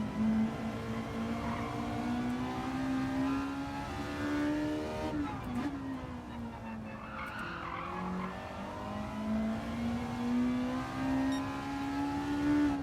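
Gran Turismo 7 race car engine held at steady high revs, its pitch sagging and climbing through gear changes, with tyres skidding and squealing across the corners; loud and continuous, no talking.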